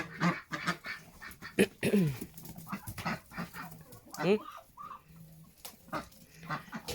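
Ducks and geese chasing each other on a farm, with a hissing old white goose among them, giving a busy mix of quacks, honks and squawks close by while a person talks over them.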